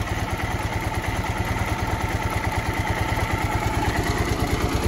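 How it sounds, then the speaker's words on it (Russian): A new Ural motorcycle engine idles steadily up close, a fast even low thumping with a light rhythmic clatter of ticking valves running through it, alone without talk. "Клапаночки цокают, ну клапаночки понятно, можно отрегулировать"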